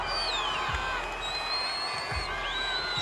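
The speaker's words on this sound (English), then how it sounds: "The crowd is alive." Cricket stadium crowd at a floodlit South Africa versus West Indies T20 match, cheering after a wicket: a steady, dense roar of many voices with whistles and shrill whoops carrying over the top.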